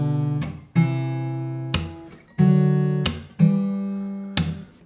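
Guitar chords voiced with the third in the same octave, four or five strummed chords each struck sharply and left ringing before the next, close and clear with no talking.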